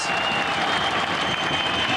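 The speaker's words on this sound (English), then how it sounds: "The crowd are going wild." Boxing crowd cheering and applauding during a bout, a steady roar of distant noise with a commentator's voice over it.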